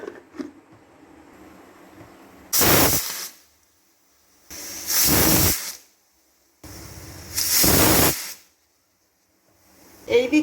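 Steam bursts from the whistle valve of a pressure cooker cooking lentils for mixed tarka, in three loud, sustained hissing blasts, each about a second long, separated by quiet pauses and followed by the start of a fourth.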